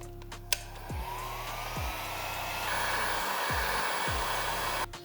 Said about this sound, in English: Get our heat gun and fire it up.